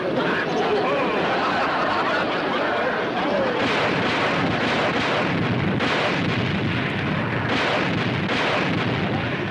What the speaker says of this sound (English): Look at them explosions, throw that water in the air.